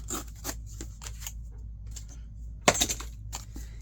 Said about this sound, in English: now we're going to cut this down, of course, because we want the pocket to be like maybe here